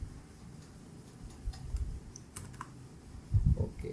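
Computer keyboard keys tapped quietly at close range in a short, irregular burst while a password is entered, with a slightly louder cluster of clicks near the end.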